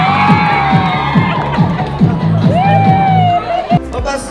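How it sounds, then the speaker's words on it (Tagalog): Crowd in Pangasinan greeting a group with loud cheering, shouts and whoops over rhythmic drumming, a lively, dense outdoor din with voices rising above it. "Kahit saan magtungo, hiyawan at palakpakan ang isinasalubong sa kanila."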